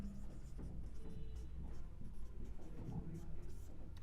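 Pen scratching across paper while a Hindi language exam answer is written out, a quiet close scribble with soft strokes and faint background noise.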